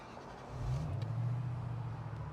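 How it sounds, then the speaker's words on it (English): A 2003 Ford Thunderbird engine cranks and catches on a cold start, then settles into a steady, fairly loud high idle hum. "Starts right up, nice high idle."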